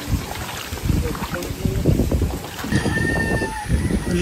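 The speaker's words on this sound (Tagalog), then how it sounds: "Ang lakas pa rin ng hangin." Strong typhoon wind blows over a flooded rural area, roaring and buffeting the microphone in uneven gusts that rise and fall throughout.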